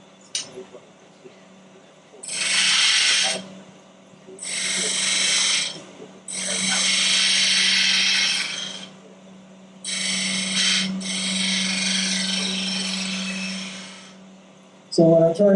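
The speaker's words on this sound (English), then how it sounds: "This is a spindle gouge, 9/16 spindle gouge." Wood lathe turning a sphere with a 9/16 spindle gouge: four long bursts of loud hissing, scraping cuts separated by short pauses, over a steady motor hum, with a brief voice at the very end.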